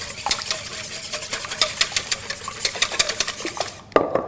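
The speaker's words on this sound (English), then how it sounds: "I want to whisk the yolks and eggs together." Egg yolks and whole eggs whisked together in a bowl, a fast, even rhythm of wire whisk clicks against the bowl, close and loud, ending with a sharp knock.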